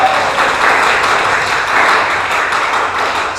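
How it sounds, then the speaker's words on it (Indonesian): Church congregation at a Pentecostal service clapping for Jesus, dense loud applause from a large crowd, sustained throughout without pause. "Tepuk tangan bagi Yesus Tuhan."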